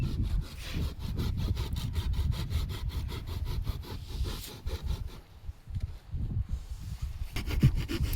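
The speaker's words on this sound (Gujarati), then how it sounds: "આપણે લાઈનને કાપી નાખીએ છીએ કારણ કે વધારે કટકો છે એટલે." A farm water pipeline being cut by hand outdoors, steady rhythmic rasping saw strokes, close and fairly loud, pausing briefly before resuming.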